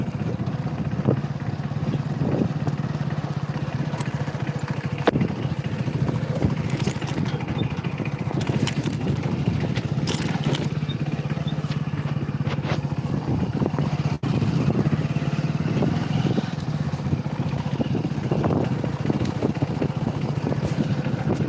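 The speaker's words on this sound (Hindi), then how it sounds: "हमारी बाइक चल रही है और हम भी चल रहे हैं आपको मंदिर दिखाने" A motorbike rides along a road toward the Ultagarh temple, its engine droning steadily and fairly close, with wind buffeting the microphone throughout.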